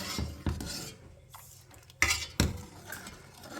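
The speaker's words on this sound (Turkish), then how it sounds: "Şimdi ıspanağımı kavuracağım." Utensils scrape and clatter against a pan while sautéing spinach, in irregular strokes with a few sharper knocks, close and fairly loud, no voices.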